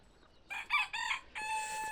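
Rooster crowing on a small farm, one clear moderately distant crow broken into a few rising and held syllables, alone without speech.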